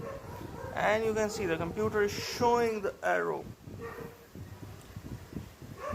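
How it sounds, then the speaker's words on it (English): A dog barks and yips in a quick burst of several high, whiny barks nearby while someone talks over it. "I'm so sorry about the dog barkings"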